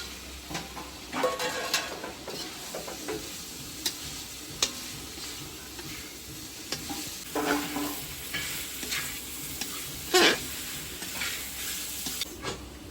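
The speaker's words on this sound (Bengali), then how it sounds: "এবার আলুগুলো দিয়ে দিচ্ছি এবার সোয়াবিন" Potatoes and soya chunks go into a pan of cooked-down spice masala for soya pulao, then are stirred as they fry: a low sizzle with irregular scraping and clattering bursts from a spatula against the pan, close up and without talk.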